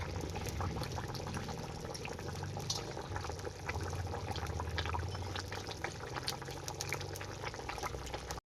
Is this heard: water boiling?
yes